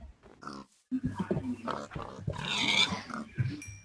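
Minecraft pigs grunt and oink in several short bursts, with a person talking in Thai over and between the animal sounds.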